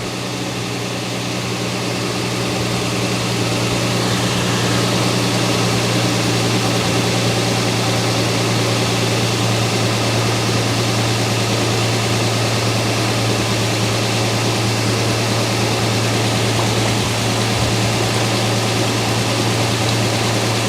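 A 2006 Toyota Tundra with the 4.0L V6 idles steadily and loudly during a transmission fluid exchange, a constant low engine hum with vibration that holds unbroken throughout.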